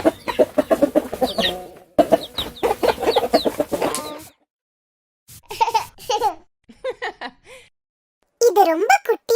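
A cartoon hen and chicks cluck and cheep in short, lively bursts separated by pauses, close and fairly loud, with childlike vocal tones mixed in.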